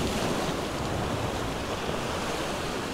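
Ocean swells break against jetty rocks in a steady, dense wash of surf. The rushing roar stays close and unbroken, with wind noise mixed in and no voices.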